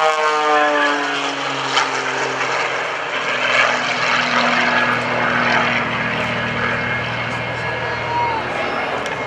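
A propeller plane's engine drones loudly and steadily during an aerobatic display at the 2014 Greenwood Lake Airshow, its pitch sliding down and back up as it maneuvers, with a crowd murmuring and a voice talking faintly underneath.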